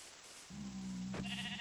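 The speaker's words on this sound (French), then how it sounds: "Un mouton." A sheep in a Minecraft-style video game gives a single short, nasal bleat with a wavering pitch. It is heard alone over faint background hiss, with no talking.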